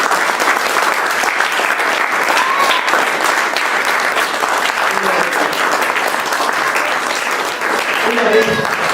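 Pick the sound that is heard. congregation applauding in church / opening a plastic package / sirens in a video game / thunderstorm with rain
congregation applauding in church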